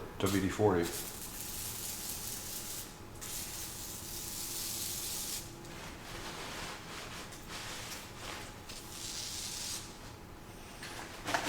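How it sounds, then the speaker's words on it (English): A WD-40 aerosol can gives a steady hiss in several bursts of a few seconds each, close by, with short pauses between them. "this is new spray bottles of WD-40"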